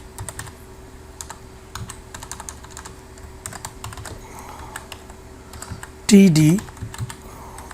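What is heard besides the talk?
typing on a computer keyboard while coding jQuery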